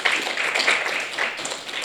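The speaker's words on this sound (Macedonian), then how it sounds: "Може уште еден аплауз за добитниците на сите награди и од двете" An audience claps steadily at an award ceremony closing a philosophy film festival, a dense, even wash of applause from many hands throughout.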